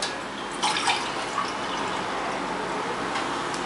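Plain water poured into a cooking mix, a steady close trickle and splash that runs unbroken for a few seconds.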